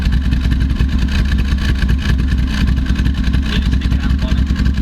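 A Reliant Scimitar's engine idles steadily while warming up, a loud, continuous low rumble with a rough, pulsing beat and no clear revving.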